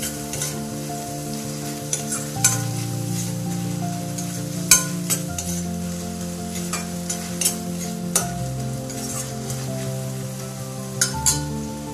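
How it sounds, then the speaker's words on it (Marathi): Chopped onion with ginger garlic paste sizzles and fries in a pan for paneer bhurji, a steady close hiss with scattered clinks and scrapes of a spoon stirring. "कांदा थोडा कलसळला की त्याच्यामध्ये आपण 1 चम्मच जी आलं लसूण पेस्ट टाकूयात। ती थोडी भाजून घेऊयात।"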